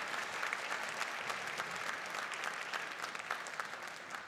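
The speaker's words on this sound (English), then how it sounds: "a big round of applause for that accomplishment" Quiet, distant applause from a concert audience at a winter band showcase, a steady wash of clapping with no talk.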